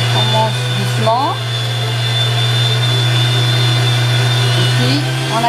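An electric mixer whips a diet chocolate mousse with a loud, steady, close motor whine that holds throughout, while a voice briefly sounds over it.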